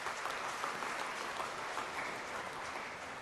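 A church congregation at a New Year's Day homily claps loudly together, a dense continuous wash of applause sustained throughout, fairly distant and even.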